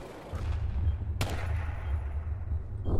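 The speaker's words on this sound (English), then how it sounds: "I'm just shooting where everybody else is shooting." Gunfire in Ghost Recon Future Soldier, a sustained low rumbling exchange of shots with one sharp crack standing out near the middle and another burst at the end.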